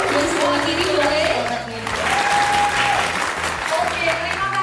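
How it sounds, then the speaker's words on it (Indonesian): An audience at a sunscreen product launch applauds, a loud dense wash of clapping that holds steady throughout, with a brief dip midway and faint indistinct voices underneath. "terima kasih untuk tepuk tangannya di acara launching sunscreen Azarin ini"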